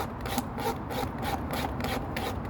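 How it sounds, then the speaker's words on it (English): A knife blade scrapes fibres off a split piece of dry hazel wood in quick repeated rasping strokes, close and steady, with no talking. "Taking my blade and I'm going to scrape a mass of fibres off of"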